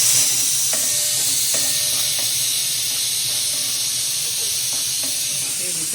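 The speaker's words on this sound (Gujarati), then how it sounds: "ઓનિયન થોડીક વાર સોટે કરી પછી કેપ્સિકમ નાખી દેવાના" Onion sautéing in a pan gives a steady, loud hiss of sizzling, broken by soft clicks and scrapes of stirring.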